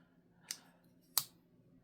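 Two crisp, sharp clicks from a Kizer Seagull folding knife ring out close and clear about half a second apart, the second louder, against near silence.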